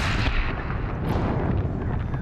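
Heavy, booming gunfire from the video game Horizon Zero Dawn, played on ultra hard, comes as a dense, continuous barrage of loud low-end blasts and rumbling impacts with no talking.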